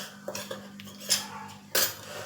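A spoon mixes gram flour and multani mitti in a bowl, making a low steady scraping with a few sharper clinks against the bowl's side, close and fairly quiet.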